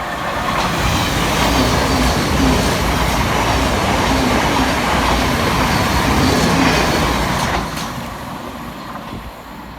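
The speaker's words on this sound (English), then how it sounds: "Next flight through the station for Southern and Thameslink is 700 114, working 19 Tango 36 from Brighton through to Bedford." A Thameslink Class 700 electric train from Brighton to Bedford runs through Purley station, a loud, close rumble of wheels on rails with rhythmic clatter that holds steady, then drops away toward the end.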